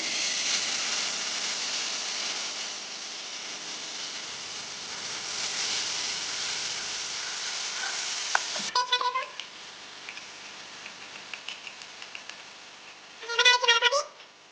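Potatoes frying in oil with red chili and green garlic give a steady, broad sizzle for the first half, which then gives way to quieter scraping and short clatters, with a couple of louder bursts near the end.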